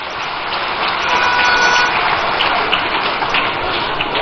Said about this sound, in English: A round of applause for our gallant MPs